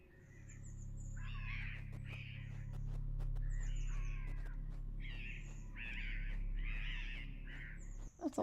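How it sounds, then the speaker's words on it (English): Birds in a video game caw again and again in short, harsh bursts over a low steady background hum, several calls overlapping, no speech. "That's a lot of birds."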